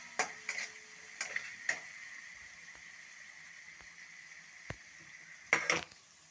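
A masala mixture for vada pav being stirred and cooked in a pan, heard as a few scattered scraping clicks of a spoon against the pan over a faint, steady background hiss, with a louder cluster of scrapes near the end.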